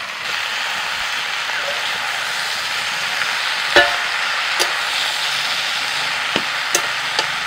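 Water spinach (kalmi shak) is tossed into a pan of frying vegetables, turmeric, salt and spices, giving a steady sizzling hiss with a few sharp spatula knocks against the pan near the end.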